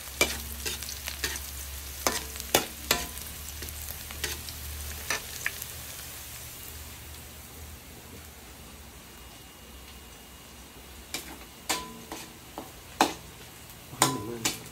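Garlic and onion sizzle steadily in a hot frying pan, a constant crackling hiss punctuated by sharp clicks and scrapes of a utensil stirring against the pan, close and alone.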